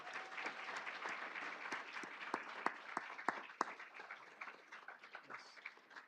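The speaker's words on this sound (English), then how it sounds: "would you all please join me in celebrating our veterans today with a round of applause" An audience claps for veterans at a Veterans Day event, a sustained round of applause with a few sharp individual claps standing out, moderately distant and fading slightly toward the end.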